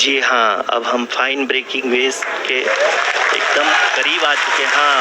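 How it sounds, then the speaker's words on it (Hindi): Mission control staff applaud during the Chandrayaan-3 lunar landing. The clapping runs steadily under a loud, close Hindi commentary voice and grows more evident in the second half. "Lot of applause indicates that till now the performance has been nominal."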